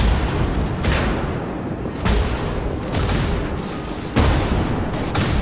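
Secondary guns on a warship in World of Warships fire in a dense, continuous barrage of booming blasts, with sharper reports standing out every second or so, loud and close.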